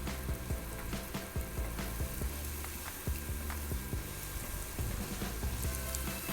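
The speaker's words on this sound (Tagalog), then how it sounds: "Igisa lang po natin ito." Tomatoes and pepper sauté in a pan with a steady, faint crackling sizzle and scattered small pops, close and without voices.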